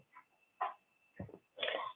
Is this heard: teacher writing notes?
no